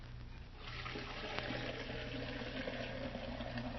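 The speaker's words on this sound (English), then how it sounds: "Now, to put some water in the tea kettle." Water running into a tea kettle as a steady, faint splashing rush that swells after a moment and continues for several seconds, heard close in a quiet room with no talking.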